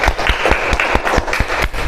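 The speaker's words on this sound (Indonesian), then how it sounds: "Tepuk tangan buat Damai, masya Allah, hebat ya" Classroom applause for a student. A group claps in a quick, regular rhythm, with sharp, evenly spaced claps close by over a bed of lighter clapping.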